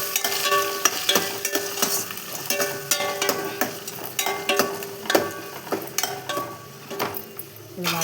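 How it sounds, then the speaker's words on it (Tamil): Onions and green chilies sizzle and fry in a pan while being stirred, with steady crackling broken by repeated scraping and clinks of a spoon against the pan, up close with no talking. "2 பச்சை மிளகா நல்லா வதக்கிக்கோங்க."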